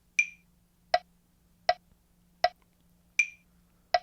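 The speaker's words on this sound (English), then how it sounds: "I've set this metronome for a time signature of 4/4" A metronome app set to 4/4 at 80 beats per minute ticks six times at an even pace, with higher-pitched accent clicks on the first and fifth beats. The clicks are crisp and close against a faint steady hum.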